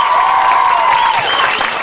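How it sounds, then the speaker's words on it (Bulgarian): Audience applause and cheering for Vladislava, a 6th-grade student singer at a school performance, as a dense, steady wash of clapping with a tonal whistle-like line running through it, continuous and fairly loud. "Аплодисменти за Владислава."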